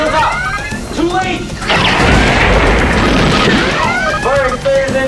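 Spaceship weapons fire strikes a starship in a Star Trek parody, a loud crashing impact burst after sweeping electronic tones, with voices talking over the effects.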